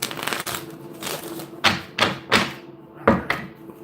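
A deck of tarot cards being shuffled by hand in a few quick bursts of riffling and tapping, close and fairly loud with short pauses between.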